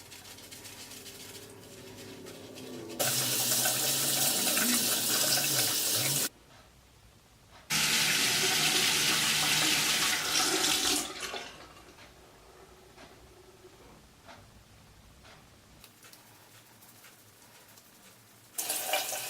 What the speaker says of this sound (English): I'm going to continue to show you guys how I wash a few more brushes